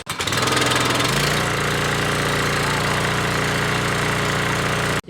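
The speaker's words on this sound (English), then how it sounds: "because obviously gas pressure washer will run like that all the time" A Westinghouse 2700 gas pressure washer engine starts and settles into a loud, steady idle, a close continuous mid-pitched chugging drone that runs unbroken before cutting off abruptly at the end.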